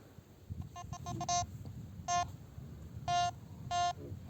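A series of short electronic beeps from a Quest Q30 metal detector searching in water, a few quick ones then several longer tones spaced about a second apart, over faint background noise.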